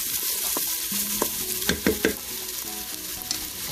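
Browning onions frying in a Ninja Foodi pot, a steady close sizzle with a few clinks of a stirring utensil against the pot, and no talking.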